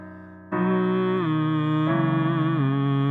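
A voice sings a low melody on hummed nasal consonants, a sustained buzzy tone that shifts between a few pitches in smooth legato steps, close and alone with no spoken words.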